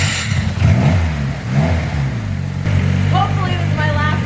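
A Honda car engine runs and idles with a steady mid-pitched hum, briefly revving up at the start, while someone talks over it.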